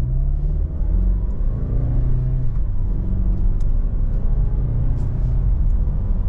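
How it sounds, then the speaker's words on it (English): A 2023 Mazda CX-9 Touring's turbocharged engine pulling under half throttle, a loud, steady low rumble and whir that builds smoothly, heard from inside the car without talk. "Give you another, maybe a half throttle acceleration, let you hear what the engine sounds like"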